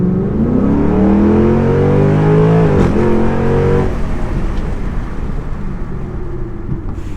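A 2006 Mustang GT V8 with cold air intake and tune revs up with rising pitch, then drops back to a rough, rumbling idle, close by and steady.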